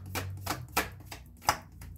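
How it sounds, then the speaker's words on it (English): Tarot cards being shuffled by hand, a stiff deck giving a series of soft, quick riffling and tapping bursts at uneven intervals, close and quiet, with no talking. "Oh, these cards are so hard to shuffle."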